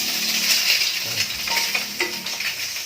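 An egg fries in a frying pan with a steady, bright sizzle. A few light scrapes and taps of a utensil against the pan sound close and fairly loud throughout.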